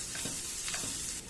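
Processed onion paste sizzles and fries in a pan while being stirred, a steady close hiss with soft scraping strokes of the spoon running through the short stretch.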